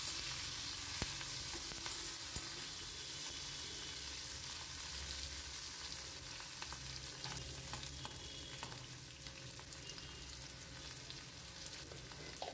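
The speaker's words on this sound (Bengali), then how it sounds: "পেঁয়াজ কলিগুলো কিন্তু তেলে একটু নাড়াচাড়া করা দরকার" Spring onion stalks fry in hot oil for a fish curry, a steady close sizzle with occasional stirring scrapes running throughout, no voices.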